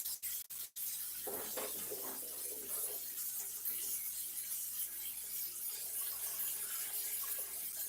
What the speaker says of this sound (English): I rinse this spatula off.